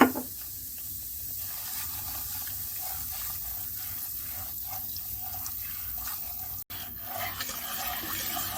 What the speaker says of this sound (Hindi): इसमें सूजी को डालेंगे, हल्की आंच पर उस वक्त तक पकाएंगे जब तक लाइट गोल्डन कलर नहीं आ जाता।